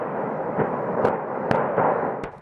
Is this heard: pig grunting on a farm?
no